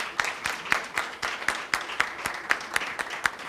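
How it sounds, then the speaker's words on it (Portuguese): Round of applause at a meeting: a small group claps steadily in an even rhythm, moderately faint. "Eu queria pedir, inclusive, uma salva de palmas para a Eugênia durante"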